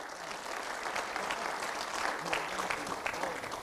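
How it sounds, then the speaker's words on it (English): Sustained crowd applause at a Pan African youth convention in a Kenya school hall, dense overlapping claps swelling slightly, heard from a moderate distance with faint voices mixed in. "a much better round of applause."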